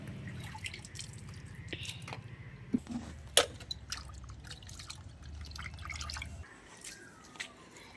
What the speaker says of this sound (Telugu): చేపలు కూడా శుభ్రంగా కడిగేసి పోసేస్తున్నాడు